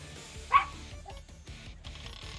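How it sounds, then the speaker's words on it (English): A dog, upset indoors at home, gives one short sharp bark near the start, followed by softer whimpering and low movement sounds in a quiet room. "Stop barking."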